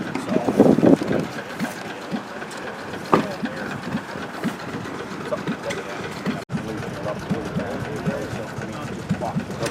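Several antique stationary engines chug and putter at once amid a busy, noisy crowd at the Coolspring engine show, with voices talking over the mechanical rumble.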